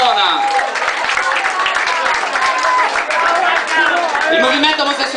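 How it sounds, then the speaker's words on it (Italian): Crowd applause and cheering at a queer pride rally, a dense, steady wash of clapping with rising voices and shouts mixed in, loud and close throughout. "io direi di farci un applauso"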